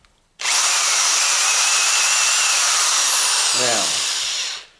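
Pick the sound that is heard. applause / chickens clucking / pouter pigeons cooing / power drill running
power drill running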